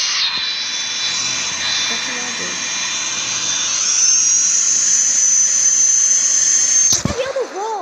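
Airplane engine from a flight simulator video game, a steady high whine that rises in pitch midway and holds loud and close, with a brief cut and a short burst of another sound near the end.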